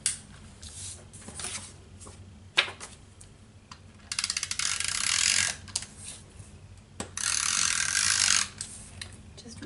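A Tombow Mono Permanent adhesive runner rolls along the edges of a card in two longer ratcheting, clicking runs, with scattered short clicks and taps from crafting around them.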